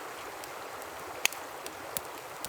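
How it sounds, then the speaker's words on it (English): River flowing beside a riverside campsite in the Ozarks, a steady soft rush of moving water with a few faint crackles or pops over it. "the sounds of the fire and the river."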